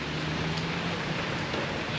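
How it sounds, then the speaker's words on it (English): Rain falling outdoors in Australia, a steady soft hiss of drops with no voices. "And it is raining."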